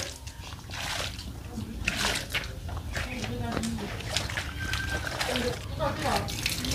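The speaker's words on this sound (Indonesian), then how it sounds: "Tak siram dulu ya." Water poured over newly planted vegetables, a steady splashing and trickling that runs throughout under nearby talk.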